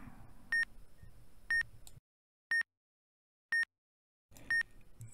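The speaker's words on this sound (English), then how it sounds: "The beeping you hear is also live, and it happens every time there is a successful solve" Short electronic beeps from telescope plate-solving software, one per successful solve, sound about once a second, five in all, sharp and clear, with soft background noise before and after the quiet middle stretch.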